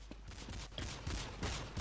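Counter-Strike 1.6 gunfire crackles in quick bursts, a rapid series of sharp shots coming in several clusters at moderate, slightly distant loudness.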